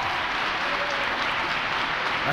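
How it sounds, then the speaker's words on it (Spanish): Applause fills a formal ceremony where a new constitutional proposal is handed to Chile's president, a dense steady clapping from a large audience with no voices above it. "Hasta la derecha está aplaudiendo."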